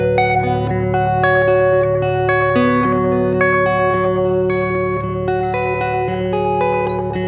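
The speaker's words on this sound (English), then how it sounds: "it's almost like I hear a room reverb" A guitar played through an effects pedal set for a room reverb, with sustained notes blooming into a dense, continuous wash of ambience that holds a steady, fairly loud level throughout, no talking.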